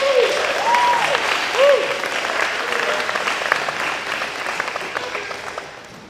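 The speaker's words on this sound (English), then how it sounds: "We give her a round of applause." Clapping rises from the audience at a university hall of fame ceremony, a broad sustained round of applause that starts strong and slowly fades, with brief voices over the start.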